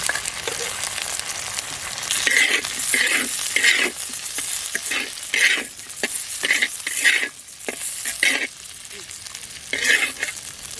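Green chillies and fried prawns sizzling in hot oil with pumpkin greens, a loud close frying hiss broken by repeated rhythmic bursts of stirring and spattering throughout.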